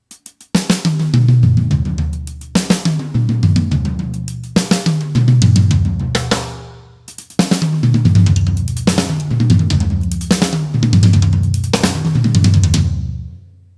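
A drum kit plays a pattern grouped in threes that starts from the hi-hat, with sharp, loud, closely miked hits repeating in several phrases with brief pauses between them and no talking.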